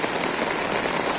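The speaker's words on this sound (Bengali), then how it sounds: "টানা বৃষ্টি হইতেছে" Heavy, steady rain pours down without a break during flooding in Feni, a dense hiss of drops on surfaces filling the whole moment at an even, loud level.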